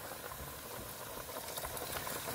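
Water rolls at a full boil in a cooking pot before rice is added for Balochistani chicken sajji, a dense, even bubbling hiss that stays steady and fairly quiet, with no talking.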